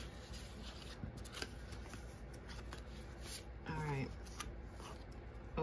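A large tarot deck is shuffled by hand with steady soft riffling and card rustle close by, and a person's voice can be heard faintly over part of it.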